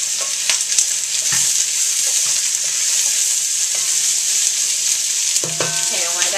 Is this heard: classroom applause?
no